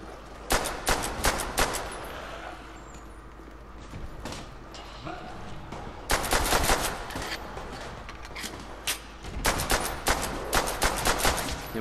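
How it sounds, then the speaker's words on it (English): Repeated bursts of rapid gunfire from Call of Duty: World at War Zombies, fired at zombies coming through a fence, arriving in several loud volleys with pauses between them while a voice talks over the shooting. "say hello to him with a bullet"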